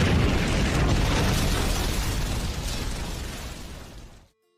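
A loud, sustained roar of an anime fire pillar attack, a full-power blast of flame that rumbles and crackles densely for about four seconds before cutting off abruptly into silence.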